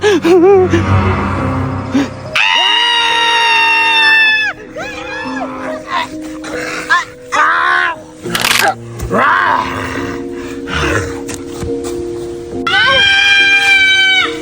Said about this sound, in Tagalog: bakit parang may sumisigaw?